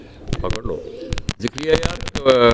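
Breeder pigeons coo in soft, low bursts near someone talking, with scattered wing flutters and sharp clicks around them.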